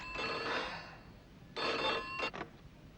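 A telephone rings in two bursts, a long ring followed after a pause by a second ring that breaks into short pulses, close and clear with no talking.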